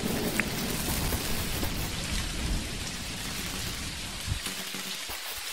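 Heavy rain falls steadily in the video game Dinkum, a dense, loud, continuous hiss with a low rumble beneath it and no speech.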